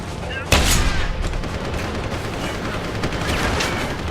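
In Deus Ex: Human Revolution, a single sharp shotgun blast cracks out loudly over a background of game noise, followed by a lingering rumble and softer scattered sounds.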